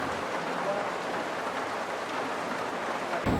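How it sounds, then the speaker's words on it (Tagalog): Steady rain patters softly on a mini camper van in a continuous wash of noise, with no distinct voices. "Nare-refresh ako sa ultimong tunog ng patak ng ulan."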